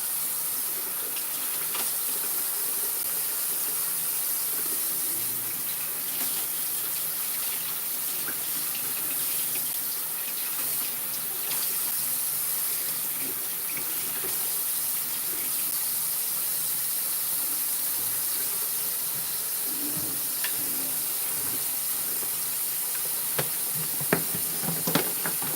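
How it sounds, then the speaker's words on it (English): Tap water running steadily into a sink while dishes are washed, a loud continuous hiss and splash with faint clinks, carrying on for the whole stretch with no talk. "me just doing some dishes"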